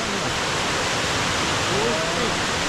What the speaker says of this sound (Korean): 우와! 폭포네?